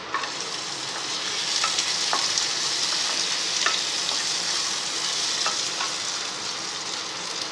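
Onions and tomatoes fry and get stirred in a pan for a green pea and potato kurma, a steady close sizzle with occasional spoon scrapes and no voices.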